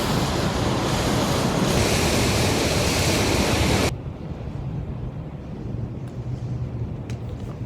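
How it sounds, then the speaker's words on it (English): Heavy rain pours outside a studio in Texas during a storm, a dense roaring wash that drops abruptly to a softer, steady patter partway through. "It's still raining outside."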